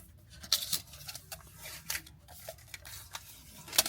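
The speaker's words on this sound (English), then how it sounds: "pull the plastic off" Plastic wrap being pulled off a new Mac mini M4, with quiet crinkling and several short sharp rustles close by.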